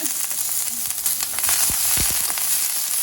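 Jalapeno and sliced onions fry in a pan on low heat, giving a steady bright sizzle with a few sharp pops and stirring scrapes, close and fairly loud.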